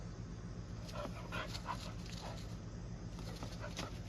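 A playful puppy whimpers and gives small yips and barks repeatedly, fairly faint against steady outdoor background noise on a cloudy, dreary day.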